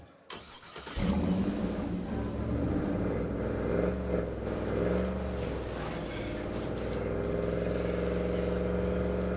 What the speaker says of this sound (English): since the car makes so much noise